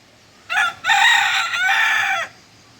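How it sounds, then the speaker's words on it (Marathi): A rooster crows close and loud in a village farmyard, one short opening note followed by a long drawn-out call lasting under two seconds, with no one talking. "कसा हरवतोय आपला कोंबडा"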